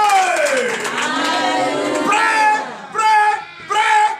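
Worshippers at a Sunday church service in Benin cheer and shout acclamations, loud overlapping voices rising and falling, ending in two short bursts of cheering.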